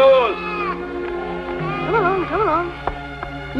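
Several wavering sheep bleats, close and clear, one after another with quivering pitch, alongside a few sharp knocks.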